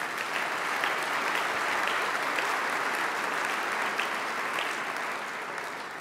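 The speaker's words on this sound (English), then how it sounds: "Let's give them a round of applause." An audience at the 2015 Supply House Times Young Execs event applauds, producing a steady, dense clapping that holds for several seconds before easing slightly toward the end.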